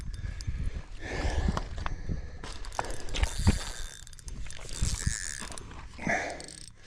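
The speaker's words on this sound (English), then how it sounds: "Tighten up my drag just a tiny bit more." Fishing reel drag is tightened while fighting a fish on Lake Lahontan, a close series of irregular ratcheting clicks mixed with handling noise.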